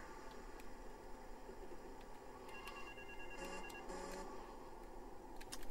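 A telephone rings faintly in the Vice City video game. Short electronic ring tones sound midway over a low, steady game-ambience hum, and no one speaks.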